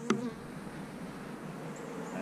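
Agitated honeybees swarm and buzz at a recently opened hive in an apiary, a dense, continuous droning hum that holds steady throughout with a brief sharper spike near the start.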